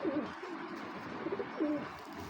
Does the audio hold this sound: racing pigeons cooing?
yes